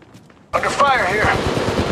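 Loud, dense bursts of automatic gunfire in the mobile battle royale game Apex Legends Mobile, rapid shots layered with clatter and a voice talking over the sustained firefight.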